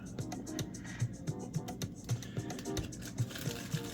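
Quick, irregular clicks of someone typing on a light-up computer keyboard with macro keys, close and distinct over faint background noise.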